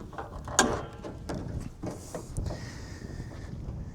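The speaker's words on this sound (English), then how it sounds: "So let's open this bonnet." A mechanical latch clunks and creaks as the bonnet of a 2016 Holden Colorado LTZ, fitted with a bonnet arm rather than gas struts, is released and lifted, with a sharp catch sound followed by softer rattles.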